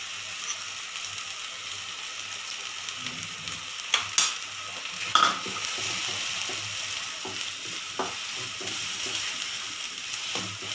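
Chettinad egg curry masala of dry-roasted ground spices and salt fries in a pan while being stirred, with a continuous close sizzle broken by scraping strokes and a few sharper clinks of the spoon.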